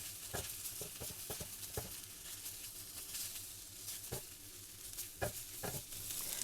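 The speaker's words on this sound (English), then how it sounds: "So let's just fry this up a bit." Spring onion rice with Mrs. Dash garlic and herb seasoning fries in a pan, a soft steady sizzle broken by repeated scraping and clacking stirs at irregular intervals, fairly quiet with no talk.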